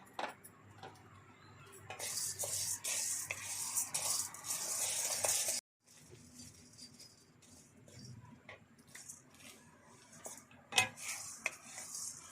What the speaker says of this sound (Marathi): चणा डाळ भाजून घेऊया